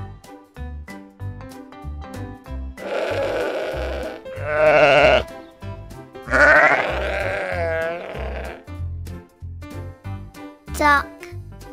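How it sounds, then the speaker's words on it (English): Sheep bleating in a few wavering, drawn-out calls over a steady musical backing, with a short high cry near the end. "Sheep."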